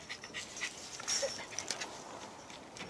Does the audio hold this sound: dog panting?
yes